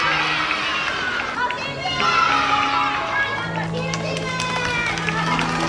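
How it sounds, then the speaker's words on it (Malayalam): Children run a relay race at a Japanese school sports day, with quick footsteps and lively shouts and chatter from a crowd of kids all around, steady and busy throughout. "ഇനി വരുന്നതാണ് ഇന്നത്തെ ലാസ്റ്റ് ഐറ്റം, റിലേ."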